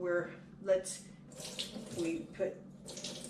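Rinse water poured from a container onto wool being washed, a soft, uneven splashing and trickling that rises and falls, with voices talking over it.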